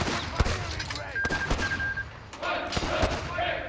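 Gunfire at a firing range in Company of Heroes 3, with sharp, close shots cracking in quick irregular bursts under spoken voices.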